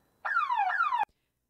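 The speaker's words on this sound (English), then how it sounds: "And this is the alarm." Alarm sound effect from a Roblox robbery system: a loud electronic siren tone sweeping downward twice in quick succession, ending abruptly after about a second, with nothing else audible.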